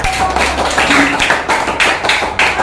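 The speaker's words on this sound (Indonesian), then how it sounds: "Benar, tepuk tangannya" Pupils in a primary classroom break into applause after a correct answer, several bursts of fairly loud, close clapping in uneven rhythm with a faint voice underneath.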